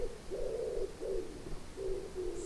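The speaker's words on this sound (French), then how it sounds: "Là j'entends cet oiseau qui a chanté, son chant unique et spécifique." Soft, low dove or pigeon coos repeat in a slow phrase, mid-distance and fairly quiet against a calm background.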